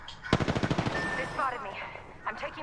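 Video game gunfire: a rapid automatic burst of shots up close, then a whirring electronic tail and faint trailing effects.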